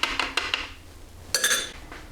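A spoon stirs an egg into hot cross bun ingredients in a bowl, making a few quick clinks and scrapes against the side, close and fairly loud, with no voices.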